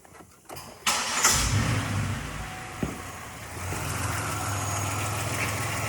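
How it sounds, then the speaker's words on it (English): A car engine cranks and catches after a few clicks and knocks, then settles into a steady, fairly close idle with no talk. "we always need to start the car up and make sure that everything's good to go"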